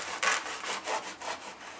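A knife saws through a baguette stuffed with mojo pork tenderloin, cheese and onions, making a short series of close, dry, rasping strokes that come in a steady back-and-forth rhythm with no talking.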